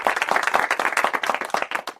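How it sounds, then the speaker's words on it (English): Dense audience applause at a virtual entrepreneurs' assembly, many hands clapping steadily and loudly throughout, with a few cheers mixed in. "Please give Mr. President a round of applause"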